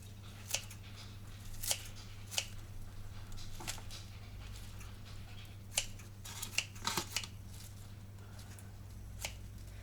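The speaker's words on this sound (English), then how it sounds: "cut up some with a pair of scissors" Quiet snips of scissors cutting parsley, a handful of sharp short clicks spaced irregularly over a low steady hum.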